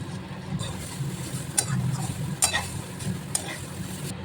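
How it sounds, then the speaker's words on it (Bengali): Chow mein noodles fry in oil while being stirred, with a soft continuous sizzle and a few sharp scraping strokes of the utensil against the pan, spaced roughly a second apart. "চাউমিনগুলো দিয়ে দিই তেল দিলে বেশ একটার সাথে আর একটা লাগে না ঝরঝরে হয়"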